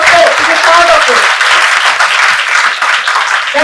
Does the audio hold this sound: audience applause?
yes